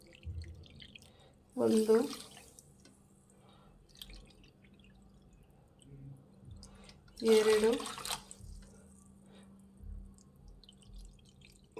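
Water poured from a cup into a pan over sugar for tutti frutti syrup, a soft trickle and drip in a quiet kitchen, with two short bursts of a voice counting.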